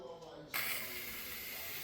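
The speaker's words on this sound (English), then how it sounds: "And it will let the steam out." A McCulloch Deluxe canister steam cleaner releasing steam, a sudden steady hiss that starts after a quiet moment and continues close and fairly loud.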